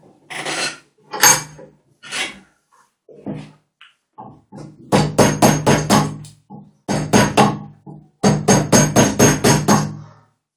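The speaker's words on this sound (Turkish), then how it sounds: "Bir adet lastik çekiç alıyorsunuz." Rubber mallet driving carving chisels into wood while shaping a wooden puppet: close, sharp knocks come in quick clusters, sparse at first, then dense rapid runs of strikes separated by short pauses.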